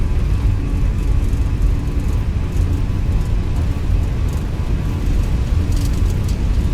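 Airliner engines spool up at takeoff thrust in Microsoft Flight Simulator 2024, a loud, steady broadband roar with a deep low rumble holding evenly throughout, no voices.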